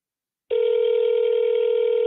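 A telephone line rings out loud and steady with a continuous electronic tone that keeps going with no answer.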